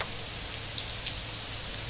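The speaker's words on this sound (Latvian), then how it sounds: "Lielais gāziens pārgāja." Steady rain lingers after an early-morning August thunderstorm in Liepāja, a dense, even hiss of drops on surfaces close by, with no voices and no thunder during the short stretch.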